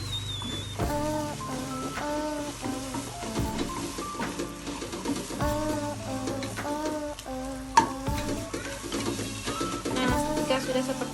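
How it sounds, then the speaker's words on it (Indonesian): A mixture is stirred little by little in a pan as it thickens, giving soft scraping and faint sizzling under music with a steady melody, and one sharp knock partway through. "Nah, ketika sudah sat, kita aduk seperti ini sedikit-sedikit."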